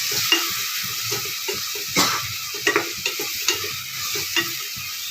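Masala with tomatoes for mushroom biryani sizzles steadily in a pan, broken by repeated close scrapes and knocks of a spoon stirring it.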